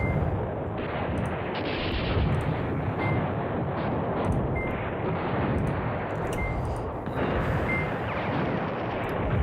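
Sustained artillery bombardment in the wargame Command Ops 2, a dense, continuous roll of booming and crackling explosions with sharp distant shots scattered through it, loud and steady throughout without any voices.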